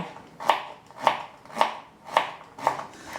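A knife chops through a young carrot quarter onto a board in five evenly spaced, crisp thuds, close and clear with quiet gaps between.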